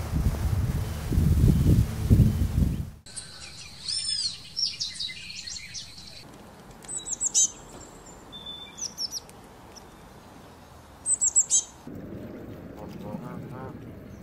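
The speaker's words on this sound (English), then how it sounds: "I think I'll just lay back and watch the birds for a little bit." Small birds chirp and tweet in several short, bright bursts, fairly close, over a soft steady outdoor background with a low rumble at the start.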